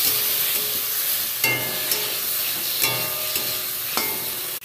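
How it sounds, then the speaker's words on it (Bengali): Potato, onion and spices being stir-fried in a pan, with a steady close sizzle broken by several sharp scrapes and clinks of a spatula turning the mixture. "মশলাটা দিয়ে দিয়েছি, এবার নেড়ে চেড়ে ভালো করে কষিয়ে নেব।"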